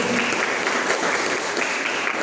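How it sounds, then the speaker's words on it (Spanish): A church congregation claps loudly in a dense, continuous wash of applause during a Spanish-language service. "Pero un fuerte aplauso al Señor."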